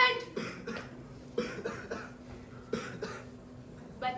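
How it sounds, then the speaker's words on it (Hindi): A person coughs repeatedly in a street play scene, several rough, close coughs in irregular bursts separated by short pauses. "बस जरा सी खांसी ही तो है"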